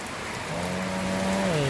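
Steady rain falls across the whole stretch as a dense, even hiss, outdoors during a funeral gathering in Thailand, while a faint tonal hum rises and bends in the background.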